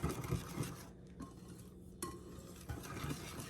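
Chocolate cake batter being whisked in a bowl produces rhythmic close scraping and light clinking of metal against the bowl, with a short quieter pause in the middle and no talking.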